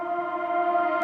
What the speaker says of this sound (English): This is called Argyle, but I've reversed it so it sounds like this.